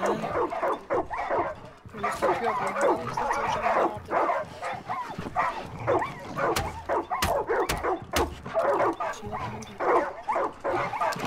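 Dogs barking in the video game Far Cry 5: close, repeated barks and yips come in quick rhythmic bursts with some whimpering, running almost continuously with brief gaps.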